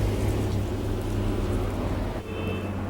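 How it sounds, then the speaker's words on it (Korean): Heavy rain pours down on a city street, a dense, steady hiss with a low rumbling undertone, loud and unbroken with no talking. "설상가상으로 빗방울까지 굵어지고 있었다."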